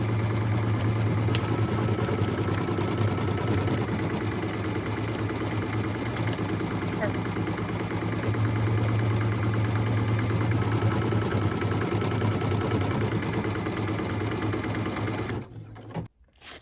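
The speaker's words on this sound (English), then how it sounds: "we can go ahead and stitch the tack down line, which is machine step 8" An embroidery machine stitches a tack-down line on an ornament project, a steady close mechanical hum and rapid needle chatter running without pause, then cutting off abruptly near the end.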